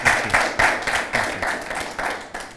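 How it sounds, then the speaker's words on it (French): Audience applause for a visiting American diplomat, a dense burst of clapping that swells in repeated waves and carries on steadily at close range. "Je vous demande de l'applaudir très très très fort"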